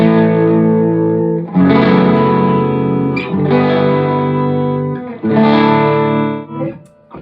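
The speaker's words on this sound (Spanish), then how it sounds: "Veis que es un sonido que no es clean. No suelo usar un sonido base clean. Siempre tiene un poco de saturación." An electric guitar plays sustained chords through an amplifier with a slightly saturated, mildly overdriven base tone and light reverb, with three loud strummed phrases that each ring out and fade, and no voices.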